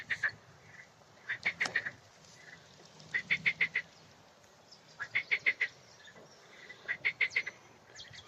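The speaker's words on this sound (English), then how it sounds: "When you hear marsh frogs." Marsh frogs call at RSPB Rainham Marshes in summer, with four rhythmic bursts of rapid, rattling croaks spaced evenly apart at moderate distance over a quiet outdoor background.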